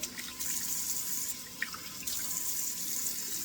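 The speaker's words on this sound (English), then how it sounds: "So turning on the cold water now." Steady hiss of a tap running water into a sink, continuous and close, with a few small splashes and drips along the way.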